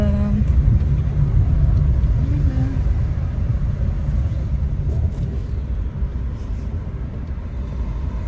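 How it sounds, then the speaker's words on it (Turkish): A car approaches on a street with a steady, loud engine rumble and road noise that holds throughout, with no talk over it. "Araba geliyor."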